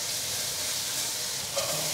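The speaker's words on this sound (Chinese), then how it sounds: "快速的翻炒，把调味料炒匀。" A seasoned filling with celery sizzles steadily in a hot wok as it is stir-fried, giving a loud, continuous frying hiss with a faint scrape of the spatula near the end.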